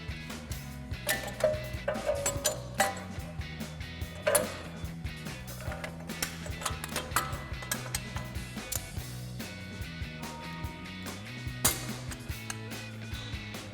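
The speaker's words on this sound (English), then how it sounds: "you're gonna get your front caliper compressor tool, and we're gonna compress the 2 front pistons on our caliper" A caliper compressor tool presses the two front pistons back into a brake caliper on a 2019-2024 RAM 1500, giving a run of close, irregular ratcheting clicks, creaks and metallic knocks, fairly quiet with no talking.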